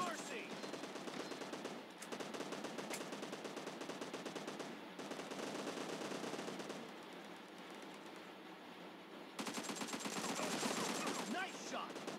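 Rapid automatic gunfire rattles almost nonstop in the mobile shooter PUBG Mobile during a team deathmatch, in dense loud bursts with short breaks, with game voices faintly mixed in.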